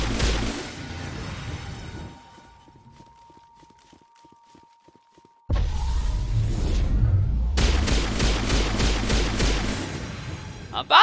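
A powerful gun fires in the Destiny Vanguard video game, with a rapid run of close, loud shots following quieter in-game ambience and a sudden heavy burst.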